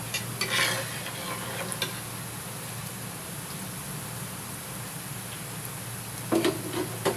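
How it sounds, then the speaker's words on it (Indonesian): Potato snacks deep fry in hot oil with a soft, even, continuous bubbling hiss, fairly quiet and close, with a few light clinks near the start and end and no talking. "ini kita goreng sampai warnanya itu kecoklatan ya, kuning-kuning kecoklatan"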